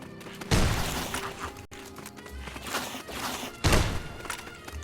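Shotgun blasts in Fallout: New Vegas boom in two heavy, separated thumps amid quieter game noise and shuffling.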